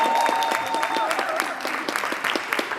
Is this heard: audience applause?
yes